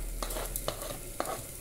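Garlic frying in a pan, a faint constant sizzle with three soft utensil scrapes and knocks of stirring spaced through it.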